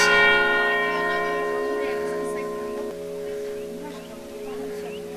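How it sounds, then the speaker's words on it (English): Church bells at Bom Jesus do Monte in Braga, Portugal ring with sustained, overlapping tones that slowly fade, resonant and somewhat distant, with light background noise. "there's the bells"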